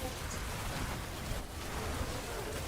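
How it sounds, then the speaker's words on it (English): Steady rain falls in a video game, a continuous even hiss at moderate volume that holds without a break and carries no voices. "It's raining, guys."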